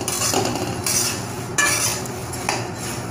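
A spoon scrapes and clinks rhythmically against a pan while puffed rice for a low-oil murmura namkeen is stirred and lightly roasted over a low gas flame, with a faint crackle underneath.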